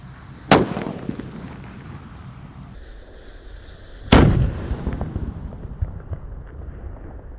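Two loud mercon firecracker blasts go off, one early and one a few seconds later, each a sharp close bang with a crackling tail, and hissing fizz lingers in between and afterward outdoors.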